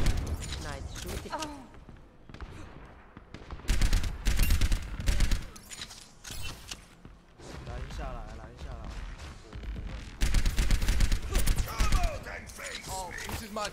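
Gunfire in the Overwatch video game, repeated volleys of shots and impacts in loud bursts mixed with game voice lines and talk throughout.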